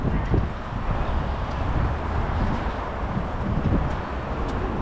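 Steady wind rushing across the microphone, a constant low rumble and hiss that swells slightly at moments, with no other distinct sounds.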